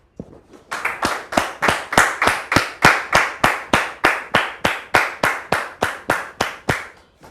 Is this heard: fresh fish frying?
no